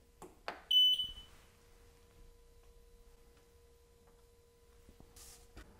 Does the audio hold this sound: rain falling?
no